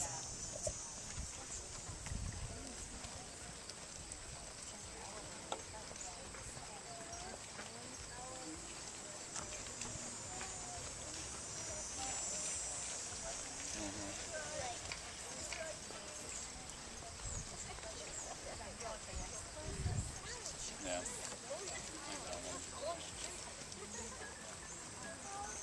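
Hooves clip-clop steadily across an arena as several horses move at a brisk pace, with a constant hum of crowd noise and distant voices.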